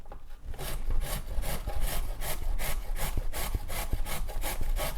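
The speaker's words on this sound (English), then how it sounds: "just grate the carrot" A carrot rubbed against the large holes of a grater for an Afghan salad, giving a close, rhythmic series of about a dozen rasping strokes at a steady pace, with no talking.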